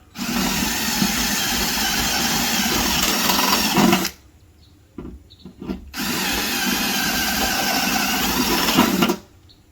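A power drill bores a hole through the cab roof of a Ford Super Duty F250 pickup, two loud sustained bursts of whining, grinding drilling separated by a short pause with light handling noises.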